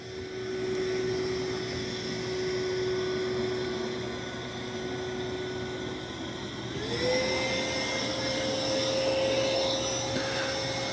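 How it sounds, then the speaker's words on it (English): MOVA Z60 roller vacuum set to max plus suction, a steady close motor whine whose pitch holds and then steps up and stays higher as the suction ramps. "I'm not sure why it's lowering the suction and then ramping it up."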